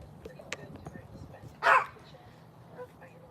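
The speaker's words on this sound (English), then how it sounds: "I don't know what my boy dog is barking at." A male dog barks once outdoors near a fire pit, a short, moderately loud burst in the middle, with faint ambient noise and a few small clicks around it.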